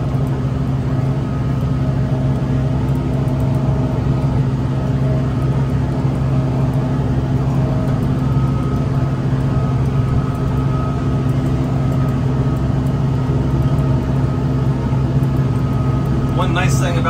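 A tractor with an enclosed cab pulls a Kubota DMC8028R disc mower through a hay field. Its engine and the cutting gear make a steady, continuous drone that holds for the whole stretch.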